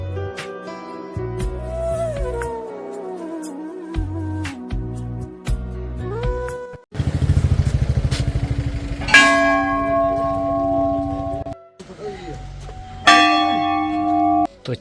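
A large temple bell rings loudly at the Golu Devta temple, its deep clang sounding several times and leaving long, shimmering overtones that fade between strikes. Other tones play before it, and no one speaks.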